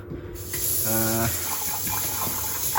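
Hot water runs from a kitchen tap in a London flat in a steady, close, continuous gush, with a brief voice partway through.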